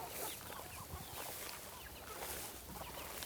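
Chickens cluck and murmur continuously, several birds close by, with scattered scratching and shuffling noises in the background.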